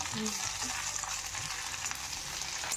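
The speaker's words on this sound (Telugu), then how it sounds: "స్టవ్ ఆన్ చేసి ఆరబెట్టుకున్న కరివేపాకుని ఏం చేస్తాం, నూనెలో వేపాలి బాగా." Washed, dried curry leaves frying in oil on a stove for chutney, giving a steady, close hiss and crackle that runs unbroken throughout, with faint stirring knocks underneath.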